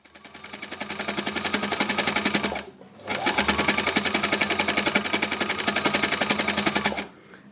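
An embellisher machine punches its needles through fabric fibres in a fast, steady mechanical chatter, close and loud, running for a couple of seconds, pausing briefly, then resuming for several more seconds.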